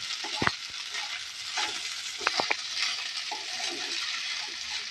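Chicken frying in a pan with semolina, a continuous sizzle close by, punctuated by a few sharp clinks and scrapes of stirring, with no voices.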